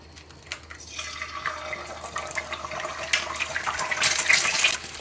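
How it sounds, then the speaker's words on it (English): An egg fries in smoking-hot olive oil, bubbling and crackling with a busy, rising sizzle that grows louder and more spattery toward the end. "It'll start bubbling wildly, but then those bubbles will pop and become lacy, nice crispy bits."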